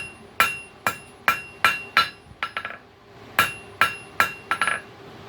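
Metal hammer blows on a cold chisel made from a coil spring, straightening it on an anvil: a steady run of sharp ringing strikes, then a quicker cluster of lighter taps, close and loud.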